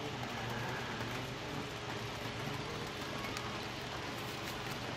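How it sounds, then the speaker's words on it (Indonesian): Steady rain from the first downpour falls over an open pigeon-racing field, a dense, even hiss of drops hitting surfaces that stays at the same level throughout, with no voices. "Nah ini hujan sudah mulai reda"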